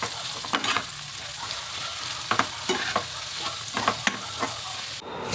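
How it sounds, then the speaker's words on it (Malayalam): Sliced onions with a pinch of salt sautéing in a pan for a chicken curry, a steady close sizzle broken by repeated sharp scrapes and taps of a spoon stirring against the pan. "സബോള വേഗം ഒന്ന് വഴറ്റി റെഡിയാകാൻ വേണ്ടി ഒരു തരി ഉപ്പിട്ട് കൊടുക്കുന്നുണ്ട്"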